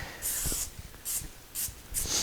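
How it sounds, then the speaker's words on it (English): Cooking spray hisses from a can onto a cast-iron pan for bread dough in four short bursts, each a sharp airy spritz lasting under half a second, close up with faint handling noises between. "we'll give it a little bit of a spray because we don't want that to stick to that"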